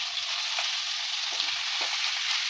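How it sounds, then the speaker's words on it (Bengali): Grated carrots fry in hot ghee for carrot halwa, giving a bright, steady hiss of sizzling fat with faint stirring taps, close and uninterrupted. "ততক্ষণ আমি এরকম নেড়ে চেড়ে ভাজতে থাকবো"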